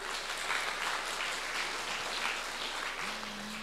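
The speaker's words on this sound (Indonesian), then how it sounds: "tepuk tangan dong sekali lagi" Steady applause fills a seminar room on young digital entrepreneurship, a broad even wash of many hands clapping at moderate distance, with a brief tonal hum near the end.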